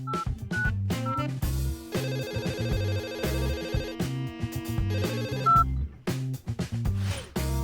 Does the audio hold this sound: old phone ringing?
yes